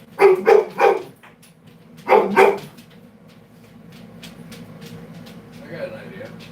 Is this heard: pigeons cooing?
no